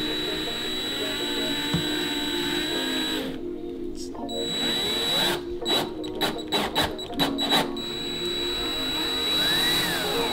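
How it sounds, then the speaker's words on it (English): A power drill drives self-tapping screws into M Performance side winglets on a BMW M2 Competition, with short choppy bursts of drilling cutting through a steady background hum. "We drilled the 5 self-tappers in."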